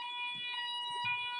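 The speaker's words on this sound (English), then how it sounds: "Just put the alarm on, bit of noise whilst the security system kicks in." A building security alarm sounds as the system activates, a loud steady electronic tone with sharp high harmonics held throughout, with faint handling thumps underneath.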